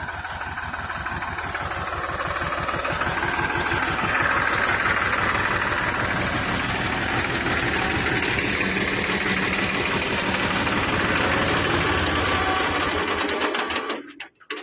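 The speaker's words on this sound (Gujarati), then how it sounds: "જો હાલે હેડો ટ્રેક્ટર" A farm tractor engine runs steadily at close range while fertilizer is being sown, a loud continuous rhythmic chugging and rattling that stops abruptly near the end.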